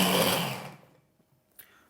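A blender whirs loudly as it whips homemade tartar sauce with oil being added, running steadily then cutting off abruptly, leaving a quiet tail with a small knock.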